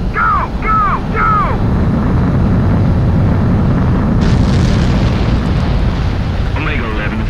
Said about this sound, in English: Omega 11, you are cleared for takeoff.